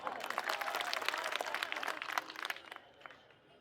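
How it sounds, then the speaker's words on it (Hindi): A crowd at an outdoor political rally in Delhi claps briskly, the applause loud at first and then thinning to scattered claps and fading out. "इसके लिए भी ताली बजा दो।"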